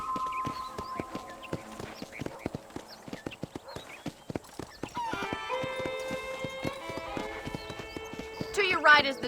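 Steady clip-clop of horse hooves trots along at an even pace in Red Dead Redemption, with tonal game music joining midway and a brief whinny near the end.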